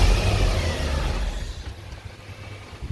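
A 2008 Mercedes S63 with about 150,000 km idles steadily after being started, a deep low engine rumble holding close and fairly loud, easing slightly in the second half with no talk over it.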